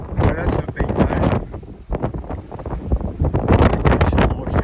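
Strong wind sweeps a rocky mountainside on the Saint-Jean-Pied-de-Port to Roncevaux hiking stage, with loud, rumbling gusts buffeting the microphone in uneven surges throughout.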